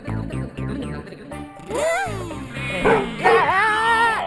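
A man imitates a dog's barking and yelping in a comedic household scene, starting with short rhythmic yips and rising into longer whining, howl-like cries, loud and close under background music.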